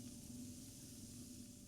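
Pumpkin donuts frying in hot oil, with a steady, close, continuous sizzle and a faint low hum beneath, holding even throughout with no talking.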